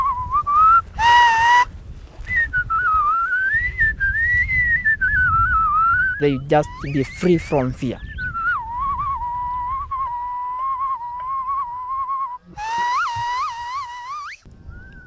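A cattle herder whistles sustained, wavering melodic tones to grazing cattle, loud and close, broken by short bursts of talk and a few sharper whistled phrases.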